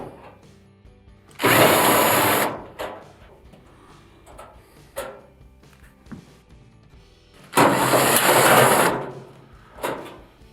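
Two bursts from a powered screwdriver or drill back out 5/16 panel screws on an Amana dryer, each a loud whirring spin of about a second, separated by quieter handling clicks and knocks.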